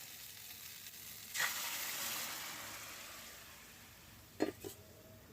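Water splashes into a hot pan of fish frying in oil, bursting into a loud hiss at about 1.4 seconds that slowly fades, followed by two brief clatters near the end.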